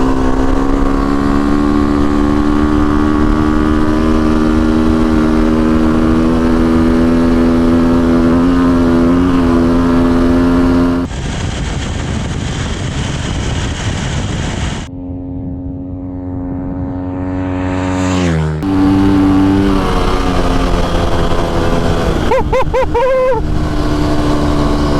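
A KTM 350 SX-F dirt bike converted for desert riding drones loudly and steadily under way, its engine note rising and falling with shifts and throttle changes, with wind rush throughout.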